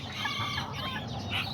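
Serama and Aztec bantam chickens cluck close by in a steady stream of overlapping calls, with a busy backyard flock murmuring underneath and no talking.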